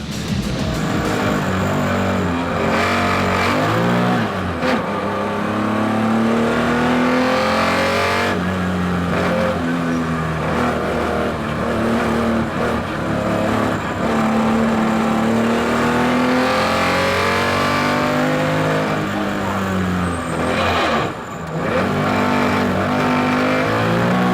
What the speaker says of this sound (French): nous en vivons quelques instants à bord de la Porsche 911 de l'équipage numéro 231.